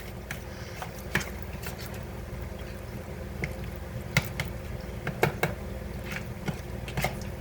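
Onion, jalapeño and seasonings being stirred into stiff softened cream cheese, giving soft squishy, sticky mixing sounds with scattered small clicks of the utensil against the bowl, close and fairly quiet.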